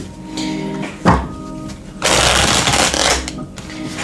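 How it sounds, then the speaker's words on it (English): A tarot card deck is shuffled close up, giving crisp riffling bursts with a tap in between and a longer rustling shuffle, with no talk. "let me just go ahead and shuffle this one more"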